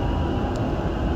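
A Dubai Metro train on the Green Line rumbles steadily at loud, close range, a dense broadband roar of the running carriage with no voices.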